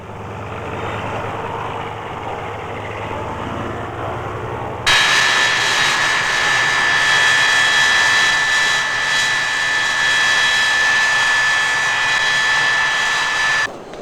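Jet engines of a passenger airplane arriving at an airport, a loud steady roar with a high whine that cuts in abruptly and holds until near the end, after a quieter stretch of low rumble.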